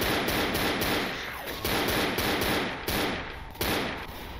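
Rapid gunfire rattles in the zombie video game Left 4 Dead, with close, loud bursts of shots repeating steadily and a few heavier cracks standing out, with no voices.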